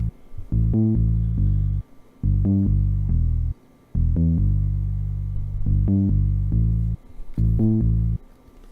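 A low synth bass line pulses in short rhythmic notes, jumping between a deep root and a higher octave, with brief gaps between phrases.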